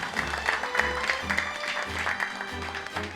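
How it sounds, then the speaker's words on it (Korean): Applause at a Jogye Order Buddhist missionary corps appointment ceremony in Korea, honoring newly appointed regional leaders; steady, continuous clapping from a seated crowd fills the whole stretch with a faint low hum beneath. "향후 2년간 5천여 명의 포교사를 이끌어갈 9대 단장에게는 격려와 응원의 박수를 보냈다"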